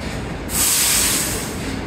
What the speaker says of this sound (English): this looks like our next train coming out